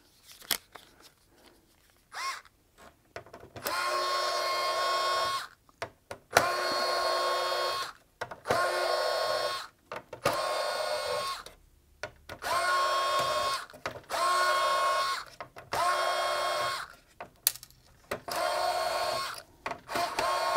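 A small Bosch electric screwdriver with a Torx size 8 bit undoes the screws on a PlayStation 5 top plate, whirring in repeated bursts of a second or two separated by short pauses, close and fairly loud.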